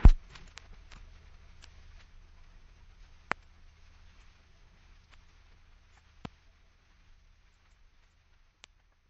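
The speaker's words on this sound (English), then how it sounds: "it's simply a recording of a needle dropping on a record, which I've pitched down one octave" A needle drops onto a vinyl record and is pitched down an octave: one soft thump at the start, then a low rumbling hum with sparse, scattered crackles and clicks that fade away.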